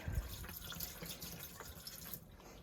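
A little water pours down a sink P-trap in a motorhome being winterized, making a faint, steady trickle and splash into the drain that runs throughout.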